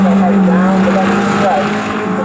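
MG Trophy race cars thunder past at full throttle at Snetterton, a loud continuous engine roar that holds steady throughout with a commentator talking over it.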